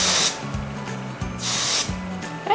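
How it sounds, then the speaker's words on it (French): Blue Colorista hair colour spray mists onto hair in two or three hissing bursts from a can, against a low background hum. "tenir le produit droit et bien secouer. Vaporiser à 15 cm des cheveux."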